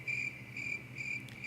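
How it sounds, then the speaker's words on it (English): Crickets chirp in steady repeated bursts, a bright pulsing trill recurring about every half second over a low background hum, with no voices present. "It's fucking crickets."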